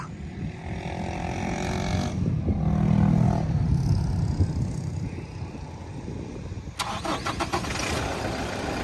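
A Toyota Revo single-cab 4x4 pickup's diesel engine cranks and starts, then settles into a steady rumbling idle, with a brief rattling burst near the end.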